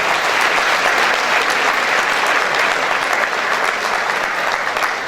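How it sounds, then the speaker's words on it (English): A crowd at the Premio Telesio 2013 award ceremony gives the guests a loud, continuous round of applause, thick and steady from start to finish. "Let's give them a great round of applause."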